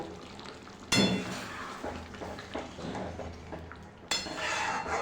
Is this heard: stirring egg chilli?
yes